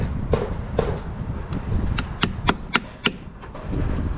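Pins hammered into a timber fascia board on a soffit box end, a run of sharp close taps, several quick strikes in a row after a few spaced knocks, over outdoor background noise.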